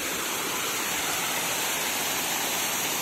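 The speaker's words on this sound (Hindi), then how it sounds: "झील नहीं झरना होता है" A waterfall from a forest spring pours in a steady, even broadband rush, close and continuous with no voices over it.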